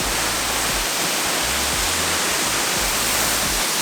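A roadside waterfall in North Carolina roars as a loud, constant wash of broadband rushing water, steady and unbroken throughout.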